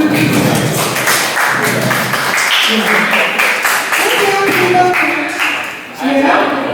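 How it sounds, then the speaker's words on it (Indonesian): Students in an Indonesian classroom clap together in a steady patter of many hands, with voices talking and calling over it throughout. "Tepuk tangan."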